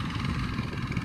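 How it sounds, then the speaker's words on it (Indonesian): A tractor engine runs in a rice field beside a tourist park, giving a steady low rumbling drone with a rough, pulsing idle character, continuous and fairly close, with no voices. "di tengah sawah, jadi ada suara mesin traktor"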